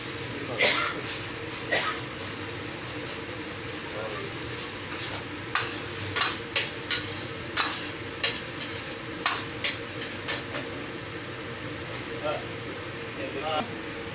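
Vegetables are stir-fried in a pan for seafood canton sauce under a steady sizzle, with a run of sharp spatula clacks and scrapes that grow more frequent midway. Talk comes and goes underneath.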